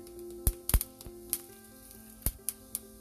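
Mustard seeds, cumin seeds and hing crackle in a little hot oil for a tempering, faint sizzling broken by a few sharp pops and spits, close and quiet.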